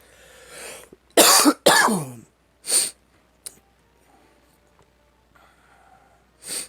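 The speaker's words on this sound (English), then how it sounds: "Still can't get over this cough and these little sniffles." A person with a lingering post-illness cough gives two harsh, close coughing bursts, followed by a few sniffs and short snorts with quiet gaps between them.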